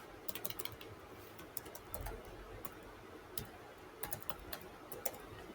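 Quiet, fairly close tapping of computer keyboard keys while writing C++ code, with irregular clusters of light clicks and short pauses against a soft background hiss, no talking.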